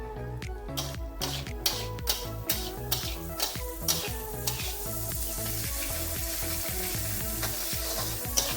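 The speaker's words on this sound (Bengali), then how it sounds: "আমাদের মশলাটা ভাজা হয়ে গেছে" Turmeric and slit green chillies fry in oil in a pan over low flame, a steady sizzle with rhythmic scraping stirs, close and alone without talk.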